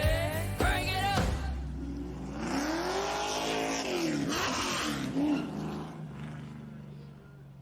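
NASCAR Xfinity race cars at Talladega Superspeedway in a racing sim game, engines roaring loudly and continuously with rising and falling revs as cars sweep past, and a voice briefly heard underneath.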